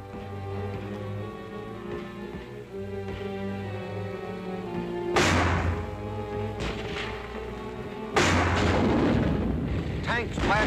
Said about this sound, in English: Tanks blast their way forward.